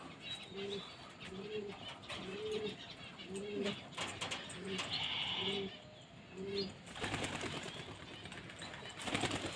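Racing pigeons coo in a steady repeating rhythm as they are released on a cold morning, soft low calls recurring about every second, with a brief rustle of wings and outdoor background noise.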